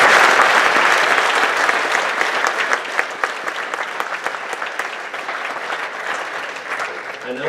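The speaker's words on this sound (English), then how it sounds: "Let's give one more round of applause." An audience at an FFA banquet gives a round of applause, dense clapping from many hands that starts full and loud, then gradually thins and tapers while continuing throughout.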